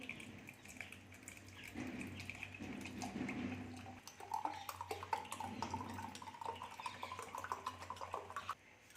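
Water splashes and trickles into a spoon of tragacanth gum amid clinks of dishes and utensils, a steady running pour nearby with no talking.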